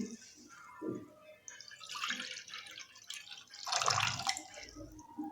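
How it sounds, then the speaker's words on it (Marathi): Water trickles and splashes into a cooking pot in short bursts from a small bowl, building to a fuller pour toward the end, fairly close. "त्याच सेम वाटीने बरोबर दोन वाटी याच्यामध्ये पाणी ओतत आहे"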